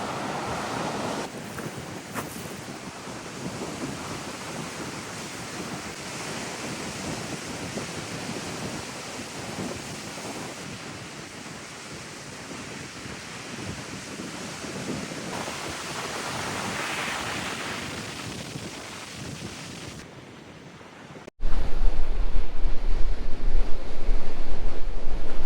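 Ocean surf breaks on the rugged Lost Coast shore in the King Range, a continuous, roaring wash of moderate waves with gusting wind buffeting the microphone, growing louder and closer near the end.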